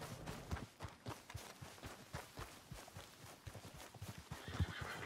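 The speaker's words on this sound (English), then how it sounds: "Who hitches a horse?" A hitched horse in the Red Dead Redemption 2 video game neighs near the start and near the end of the clip, with clip-clop hoof steps tapping steadily in between and no talking.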